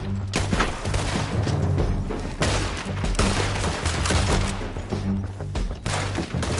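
Dense, rapid gunfire rattles through a Red Dead Redemption shootout, overlapping rifle and pistol shots crackling continuously at close range with no pauses.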